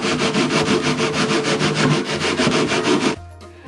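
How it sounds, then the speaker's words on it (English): Sandpaper rubbed back and forth over a rough spot on a guitar's wooden body, a steady run of fast, loud, close scraping strokes that stops abruptly near the end. "so I'm going to sand in here"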